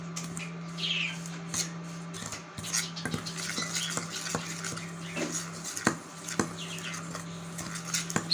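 Flour dough being mixed by hand with ghee for village-style Bengali atta biscuits, with soft scraping and clinking of a utensil against a bowl, a steady low hum behind, and no talk.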